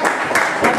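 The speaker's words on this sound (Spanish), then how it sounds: "Fuerte aplauso para ellos que organizaron esta fiesta para todos" Guests at a Halloween costume party clap briefly for the organizers, a short burst of a few close claps.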